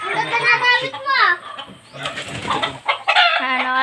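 Chickens clucking in a yard, short bursts mixed among a person talking and other voices nearby.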